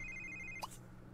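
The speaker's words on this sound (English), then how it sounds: "Sounds like Daisy's getting a phone call" Phone ringing in The Sims 3 video game, a faint electronic ringtone tone sustained for about half a second then cut off with a short blip, over low background hum.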